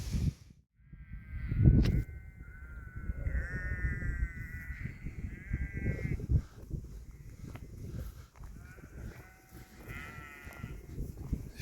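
Sheep bleating across a field near a churchyard in Lyme Park on a walk, with repeated harmonic bleats from several animals at moderate distance over steady outdoor background.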